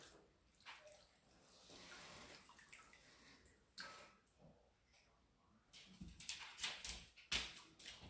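Cooked rice noodles being drained in a home kitchen, with soft splashing, trickling and dripping water that builds into brief louder sloshes and clatter toward the end, fairly close.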